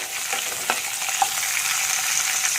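Dried fish (shutki) sizzles steadily in hot oil in a pan while being stirred, with a few scraping clicks of the spoon against the pan over a continuous close frying hiss.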